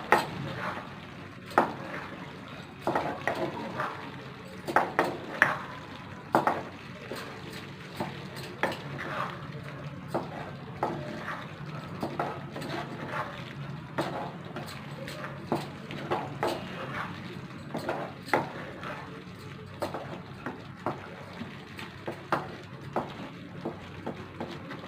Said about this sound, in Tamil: மிக்ஸ் பண்ணி விட்டுருங்க.